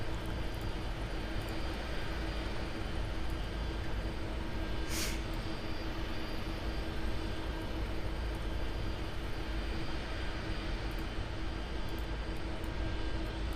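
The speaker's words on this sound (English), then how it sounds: "There's a helicopter here." A steady, droning aircraft rotor and engine noise fills the scene continuously, loud and unchanging throughout.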